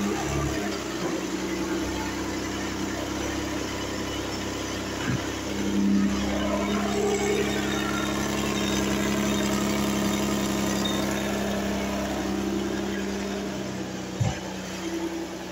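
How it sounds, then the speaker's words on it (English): A 2018 Kia Sedona EX minivan idles in drive with a steady low engine hum that holds constant throughout, with a few faint clicks and no talking. "And drive."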